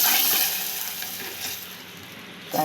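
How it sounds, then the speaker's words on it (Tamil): Spices for chicken kulambu, with curry leaves and coriander, sizzle hard in a ladle. A bright, loud crackle fades to a softer fizz over a few seconds. "அதனால் கரண்டியில் தாளிக்கிறோம்"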